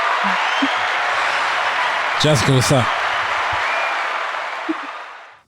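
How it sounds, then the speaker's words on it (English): A round of applause sound effect, a dense wash of clapping that runs steadily through the whole stretch and fades out at the end, with a person talking briefly over the middle. "You like the round of applause?"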